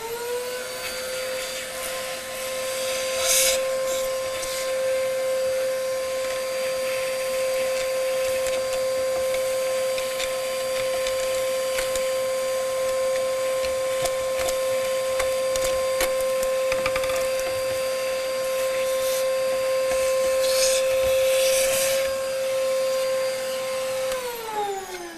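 A vacuum cleaner draws steadily through the grinder of a Gaggia Babila coffee machine, a loud continuous whine with a strong steady tone, running alone for the whole stretch before cutting off at the end.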